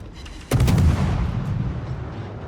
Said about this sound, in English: at this range though, the Gearing's guns are pretty deadly.